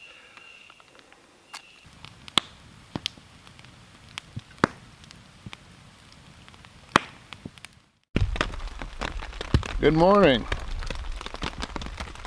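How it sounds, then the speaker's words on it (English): Rain falling on a tent during a canoe camping trip: scattered loud drops tapping the fabric, then a heavier steady patter as a voice speaks briefly and birds chirp nearby. "Hear the rain?"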